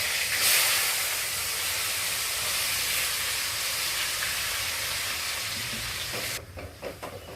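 Rambutan fruit fries in hot oil for a sweet and tangy pickle, a loud, steady close hiss and sizzle that drops away near the end into a few stirring clatters, with no talk.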